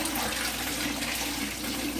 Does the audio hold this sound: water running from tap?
yes